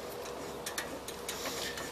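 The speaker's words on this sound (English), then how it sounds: "Get your wrench in, get this first bolt lined up" A wrench turning a bolt while fitting a rear fender onto a motorcycle, heard as a few faint, quick ticking clicks scattered over a steady, loud hiss of background noise.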